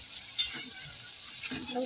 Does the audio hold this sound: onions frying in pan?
yes